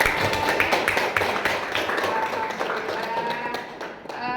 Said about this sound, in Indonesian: Oke, tepuk tangan dong untuk kita semua.